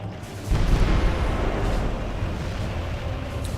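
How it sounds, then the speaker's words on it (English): A deep boom hits, then a heavy rumbling roll of distant battle explosions in the video game Medieval 2 continues, low and sustained, with no talking. "Ooh, those explosions are pretty damn good."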